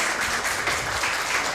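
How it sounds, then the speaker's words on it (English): Seminar audience applauding the speakers, a short burst of steady clapping from a room of people at moderate loudness. "Maybe once again we can give them applause."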